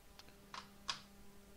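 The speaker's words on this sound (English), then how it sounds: "stupid keyboard." A computer keyboard is tapped in a few faint, sparse keystrokes over a quiet background hum.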